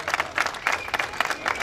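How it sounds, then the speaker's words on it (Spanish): Audience applause at a lighting ceremony, a short burst of dense, rhythmic clapping from a nearby crowd. "Aplausos entonces."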